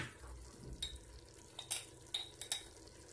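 Food frying with chili pepper and salt for a traditional Kabyle dish: a soft, steady sizzle in a pan, broken by several light clinks and scrapes from a stirring utensil, with no talking.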